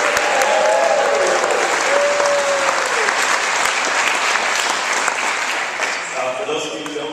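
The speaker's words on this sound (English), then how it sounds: "So if we could start by giving them a round of applause." Wedding reception guests break into loud, sustained applause that fills the room, with a voice briefly audible early on before the clapping slowly tapers.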